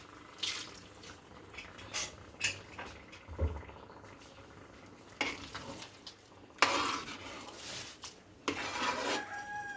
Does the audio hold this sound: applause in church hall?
no